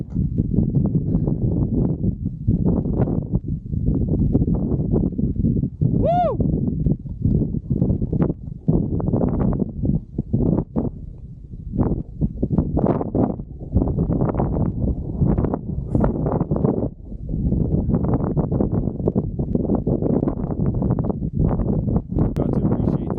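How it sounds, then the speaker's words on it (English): Cold wind gusting across snowy Uncompahgre Peak, a steady rough roar buffeting the microphone in close, loud waves that rise and fall for the whole stretch, with a brief faint whistle partway through. "this wind is freezing"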